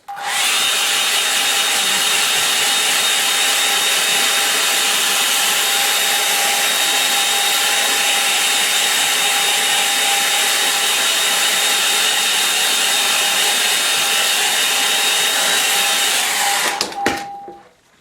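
A hair dryer blows steadily to dry paint on a landscape painting, a loud continuous whirring hum with a high whine that runs unbroken for the full length before clicking off at the very end.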